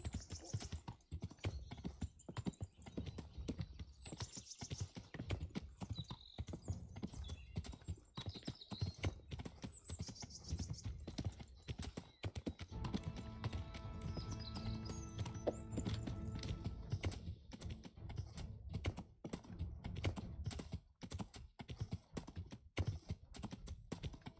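Horse hooves in the video game Kingdom Come: Deliverance, a steady clip-clop of a galloping horse running on for the whole stretch at low level, with occasional clicks and a brief tonal burst midway.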